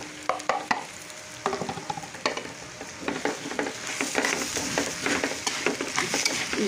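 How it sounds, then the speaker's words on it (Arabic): Meat, liver and gizzards fry with onion in a pan, a close sizzle broken by repeated scraping stirs and clatters of a spoon, loudest in bursts near the start. "هضيف اللحمه بتاعتي والكبد والقوانص عشان ينشفوا برضو"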